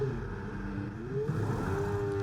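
Race car engine revving on the grid at a race start in the F1 24 video game, a sustained high whine that climbs in pitch, close and steady with no talk.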